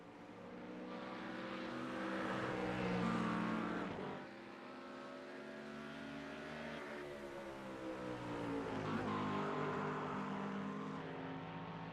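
GT race cars, a McLaren and a Ford Mustang, race in a GT Sprint Americas round, with engines whining steadily as they rise and fall through gear changes, loud and continuous with no talk over them.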